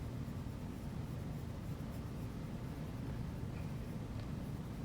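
A pencil moves lightly over paper for a grid drawing, giving a faint steady scratchy rub under a dense low background hum, with no talking.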